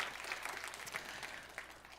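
A church youth service congregation claps to encourage high school students, a soft, steady patter of many hands heard from a distance and tapering slightly toward the end.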